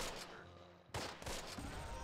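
Battle gunfire aimed at infantry in Close Combat: Wacht Am Rhein, a faint, continuous rattle of rifle and machine-gun fire with a sharper burst midway, distant and without talk.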